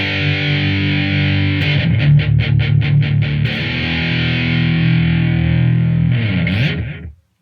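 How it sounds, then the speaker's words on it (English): Electric guitar through the metal distortion effect of a Mooer PE-100 pocket multi-effects unit, heavily distorted: a sustained chord, a burst of fast chugging palm-muted notes, then another long ringing chord that cuts off abruptly. "I think that works as a metal effect."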